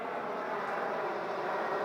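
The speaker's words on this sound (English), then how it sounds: "Yes, David, that's a fucking plane." A fixed-wing airplane passes overhead, a steady distant engine drone with a broad rushing roar that holds even and unbroken throughout.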